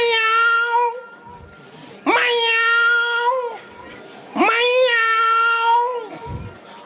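A mimicry artist in a North Karnataka comedy show imitates a cat with three long, wavering, close meows, each rising sharply and then holding before trailing off, with quiet pauses between them.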